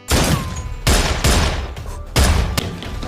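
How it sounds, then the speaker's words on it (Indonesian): Loud bursts of gunfire ring out in a film shootout, several heavy volleys with echoing tails spaced across a few seconds, no voices over them. "Frank di sana juga ikut baku tembak dengan Zan."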